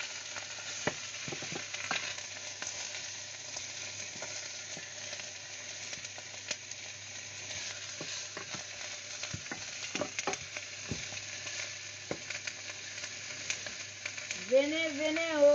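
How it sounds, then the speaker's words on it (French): A pot of palm-nut graine sauce is stirred as it fries, with soft, continuous scraping and a quiet sizzle throughout and a brief voice near the end. "Je vais tourner pour pouvoir mélanger. Je mélange."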